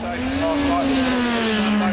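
A racing motorcycle roars past on the Greymouth street circuit, its engine note loud and sustained with a slight pitch drop as it goes by.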